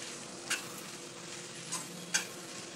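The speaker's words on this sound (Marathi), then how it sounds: "असे परतून घ्यायचे छान ते वाटाणे." Green peas sauté in a pan for batata matar poha, a faint, steady low sizzle with three light spatula clicks against the pan, quiet and close, no talking.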